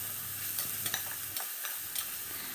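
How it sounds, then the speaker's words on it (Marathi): Onions frying in hot oil in a home kitchen pan for a chicken curry, a steady close sizzle broken by a few sharp scrape-and-stir clinks, with no talking. "कांदा छान आपल्याला ब्राऊन होईपर्यंत परतून घ्यायचा आहे"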